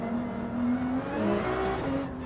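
A powerful car in Gran Turismo 7 drones with a steady engine hum and shifting whine as it drives, moderately loud with no talk.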